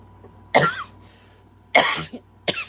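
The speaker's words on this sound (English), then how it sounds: "You'll have to excuse my coughing." Three separate coughs, the first two harsh and full, the last shorter, over a faint steady electrical hum.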